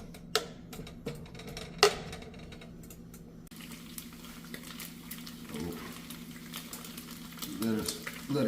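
Food frying in oil in a pan, with a few sharp clacks and utensil scrapes early on, then a soft continuous sizzle with faint clinks.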